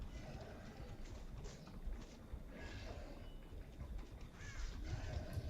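A crow caws a few times at moderate distance in Dead by Daylight, the calls rising over a constant murky ambient background.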